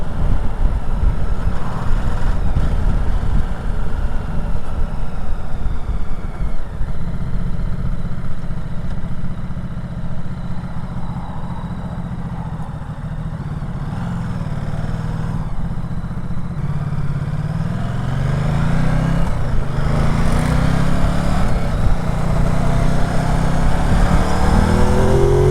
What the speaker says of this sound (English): So the old Ducati 950, this is the S version with all the electronics on it.